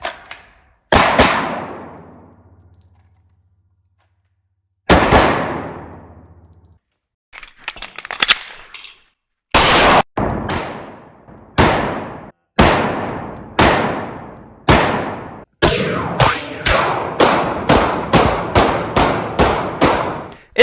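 A SIG P320 Legion pistol fires outdoors, beginning with single shots spaced seconds apart and then speeding into a quick string of sharp, loud reports, each with a short ringing decay.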